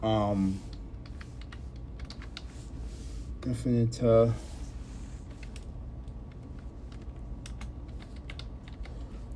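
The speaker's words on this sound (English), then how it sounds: "I'm typing it in my computer right now" Someone types on a computer keyboard in light, scattered clicks across the clip. A voice speaks briefly over the tapping at two points.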